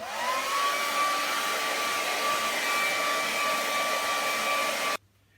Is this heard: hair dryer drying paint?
yes